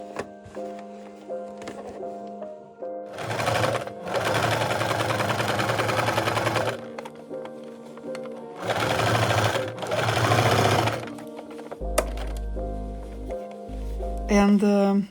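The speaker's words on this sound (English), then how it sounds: "I will stitch lining with the same zigzag settings that I used for the first seam" A sewing machine runs zigzag stitches along the lining of a jacket cuff in two long bursts of close, steady whirring. Quiet gaps separate the bursts, and a voice speaks between them.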